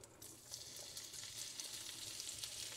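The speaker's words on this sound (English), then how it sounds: "If you put wet potatoes in hot grease, it's going to splatter everywhere" Potatoes fry in hot grease in a skillet for Southern-style fried potatoes, a bright hissing sizzle rising quickly after a quiet start and then holding steady with light crackling, faint and close.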